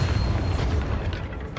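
A Bombarda explosion spell in the Hogwarts Legacy video game, a loud, dense booming blast with a rumbling low end that fills the short moment.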